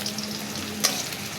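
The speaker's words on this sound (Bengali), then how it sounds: "পেঁয়াজগুলো ভালোভাবে নেড়ে চেড়ে একটু ভেজে নেব" Chopped onion hitting hot oil in a heated pan, a soft continuous sizzle with one brief sharper spike partway through, fairly quiet and close.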